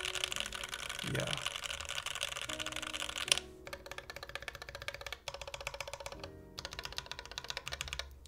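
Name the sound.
typing on brass Think6.5 mechanical keyboard with GMK keycaps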